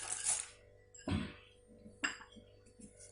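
Peanuts being mixed into jaggery in a pan, heard as a few separate scraping and clinking knocks of a spoon against the pan, spaced about a second apart, quiet and close.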